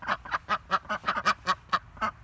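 Ducks quack close by in a rapid, rhythmic series of about a dozen loud calls in a little over two seconds.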